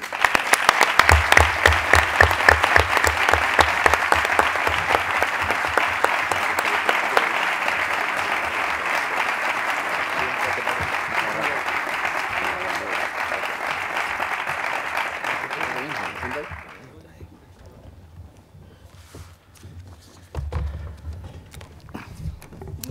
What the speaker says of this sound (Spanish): es para darle un aplauso a Ángel que lo tenemos ahí